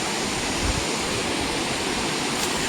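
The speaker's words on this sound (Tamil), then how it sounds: "ஃபால்ஸ் அங்கே இருக்குது. தண்ணி வந்து அதிகமாகவே வந்துட்டு இருக்குங்க" Agaya Gangai waterfall in the Kolli Hills pours heavily with strong flow, a loud, dense, unbroken roar of rushing water heard close by without pause.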